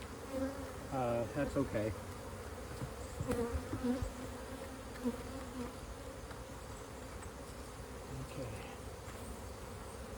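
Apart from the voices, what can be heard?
honey bees buzzing around a hive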